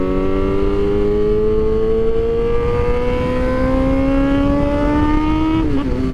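A motorcycle engine revs loudly and close by, its pitch sliding steadily as the rider downshifts through the gears, ending in a sharp blip with a small stutter.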